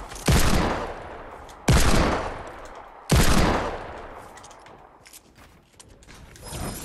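Gunfire in Fortnite comes as three loud, sharp blasts about a second and a half apart, each trailing off in a long echoing tail, followed by quieter clicks and rattles.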